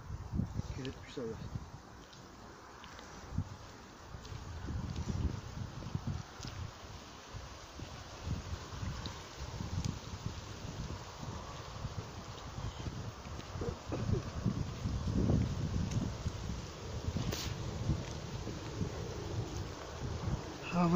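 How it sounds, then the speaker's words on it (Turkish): Gusty wind buffets the microphone outdoors in cold weather at Konyaaltı, Antalya, beside a frozen stream, low rumbling rising and falling throughout, with faint rustling in the background. "Hava çok soğuk, rüzgar çıktı."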